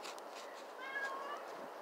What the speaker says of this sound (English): You said a meow!